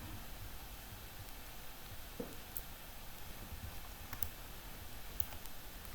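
Computer mouse clicks made while drawing a centrifugal pump casing in LibreCAD, a few faint, sparse, sharp clicks spread across a quiet background hiss.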